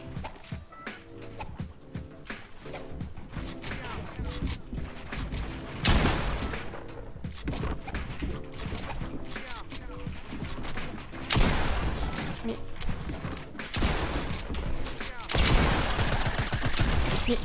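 Rapid Fortnite gunfire in a hectic arena match, dense bursts of close shots and repeated blasts running almost without pause, with heavier louder volleys every few seconds.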